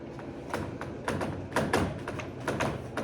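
An eraser wipes numbers off a classroom board in a few quick rubbing strokes, a series of brushy swishes and soft thumps close by, with no speech.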